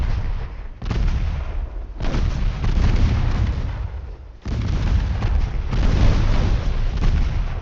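Naval guns in a warship video game fire in heavy, continuous rumbling booms, with loud overlapping blasts that rise in waves and briefly drop off before the next salvo.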